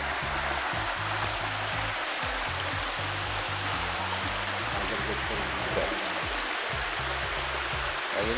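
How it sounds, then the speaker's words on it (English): A stream of water flowing under train tracks into a deep cave, a steady, full rushing wash of water heard up close, with a voice talking faintly beneath it. "the water goes underneath the train tracks through this cave"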